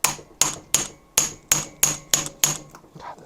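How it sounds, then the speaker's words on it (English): A tiny hammer taps on a Honda CB350F motorcycle engine during cylinder head removal: eight sharp, close metallic knocks at a steady, slightly uneven rhythm, alone without talk. "God, this is a tiny hammer."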